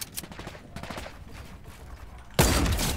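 Video game gunfire in a competitive shooter match: scattered shots over the first seconds, then a sudden loud burst of sustained rapid fire near the end, with no talk.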